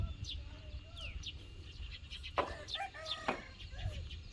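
Chickens cluck and chirp in short scattered calls at moderate distance, with a faint voice and outdoor background murmur beneath.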